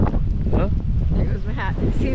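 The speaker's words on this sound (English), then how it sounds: "It is windy. Very, very windy." Strong wind buffets the microphone with low roaring gusts while a person talks over it.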